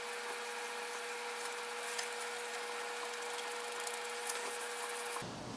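A gray abrasive pad rubs along the grain over a shellac coat on a mid-century modern coffee table, giving a steady soft scrubbing hiss under a constant low hum until it stops abruptly near the end.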